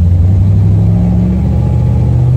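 A 1976 Chevrolet Corvette with automatic transmission hums steadily and close, a smooth low rumble of the car cruising along with no one speaking.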